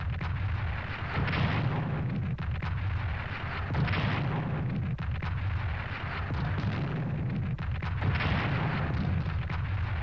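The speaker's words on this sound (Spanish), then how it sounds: "Bombardeo naval" Naval bombardment in the strategy game Strategic Command WWII: deep, booming artillery blasts arrive in repeated heavy waves about every few seconds, loud and rumbling, with no talk over them.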